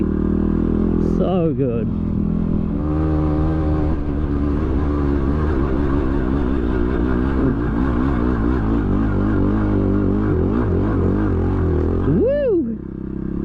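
A Yamaha WR250R motorcycle rides across the Simpson Desert, its engine droning loudly and close with rising and falling revs and gear changes, ending in a sharp rev. A rider speaks briefly over the engine.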